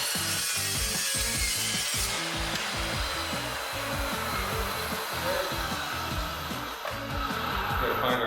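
An M.K. Morse 14-inch Metal Devil saw cuts through angle iron with a loud, steady, close grinding whine that holds throughout, its gritty rasp pulsing rapidly under a constant motor roar.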